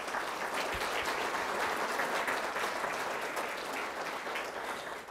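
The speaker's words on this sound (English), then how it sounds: "Let's just give him a round of applause." Steady, sustained applause from an audience fills a hall of fame ceremony, loud and even throughout with no voices over it.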